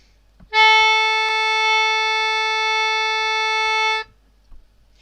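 A single sustained note, held for about three and a half seconds as a whole note, rings out on an instrument with a bright, harmonically rich tone, loud and steady before stopping cleanly, followed by a faint click.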